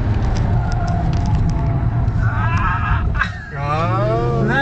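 BMW M5 race car with a 507 hp V10 engine lapping a track, its steady loud engine roar filling the cabin, then a brief dip and rising tire squeal as the tires cut, with faint talk in the background.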